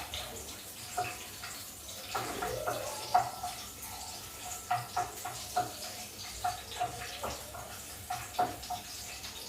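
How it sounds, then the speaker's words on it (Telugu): Chopped garlic sizzles in hot oil in a pan while a simple carrot fry is being made, giving a steady crackling hiss with scattered pops throughout. "మన ఆయిల్ హీట్ ఎక్కిందండి. ఇప్పుడు మనం ఇందులో గార్లిక్ని యాడ్ చేసుకున్నాం"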